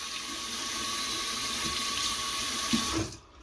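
Tap water runs steadily into a sink while makeup brushes are washed, a continuous close hiss of flowing water that cuts off near the end.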